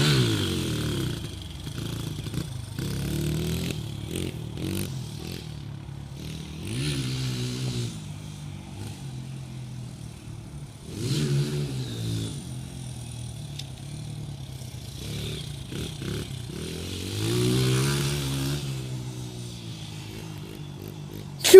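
Motorcycle engine revving hard during a run of wheelies: repeated rising and falling throttle surges with a buzzing, whining tone, moving from near to farther off and back, loud and mostly without talk.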